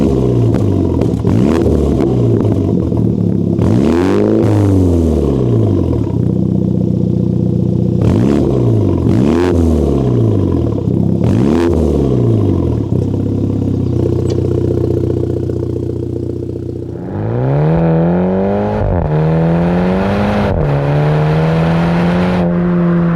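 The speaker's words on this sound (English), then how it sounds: "So let's jump in the GP3 and go for a drive." A Mini GP3 car revs hard through repeated climbs and gear shifts: loud, close engine sweeps rise, drop and rise again in cycles, then settle into a longer pull near the end, with no talk over it.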